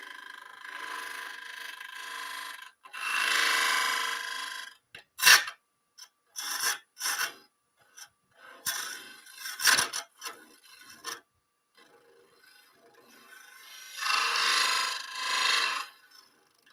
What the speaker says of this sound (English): Rubbing on that brass piece.